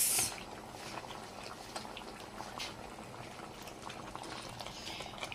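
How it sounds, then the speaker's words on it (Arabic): Water boils in a cooking pot with a dense, continuous bubbling and rolling, close and moderately loud, with no voices. "وانا بقى بستنى لما يغلي كده"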